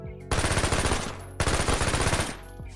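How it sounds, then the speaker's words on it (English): A P90 submachine gun firing in a video game: two loud, rapid automatic bursts, each about a second long with a short pause between, crackling with a dense rhythmic rattle up close. "We've got a P90. Pretty fast, fast-firing guns"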